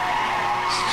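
A car drifts in the racing game NFS Hot Pursuit Remastered, giving a brief, loud and sustained tire squeal over the engine's hum.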